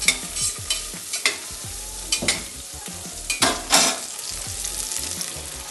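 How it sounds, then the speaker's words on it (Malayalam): Prawns frying in a pan for prawn biryani, a continuous close sizzle with frequent stirring scrapes and light utensil knocks against the pan, no talking. "ഇപ്പോഴത്തെ ഭാഗം ചെമ്മീൻ പൊരിക്കുന്നുണ്ട്."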